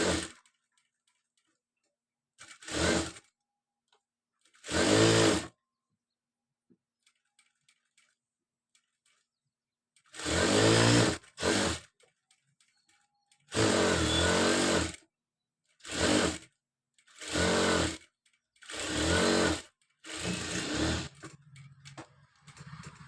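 A sewing machine stitching a dress runs in several short bursts of rapid mechanical whirring, loud and close, separated by pauses of near silence.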